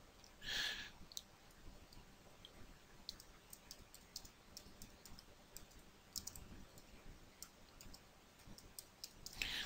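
Faint, scattered clicks of a computer mouse, with a few light taps spaced irregularly over a quiet background and a slightly louder click near the start.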